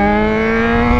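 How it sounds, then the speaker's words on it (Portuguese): A Yamaha XJ6 motorcycle with a straight-pipe exhaust revs loud and close, giving a sustained, harsh, strongly harmonic engine whine throughout the brief moment. "Os XJ tão berrando, moleque. Meu Deus, berra muito!"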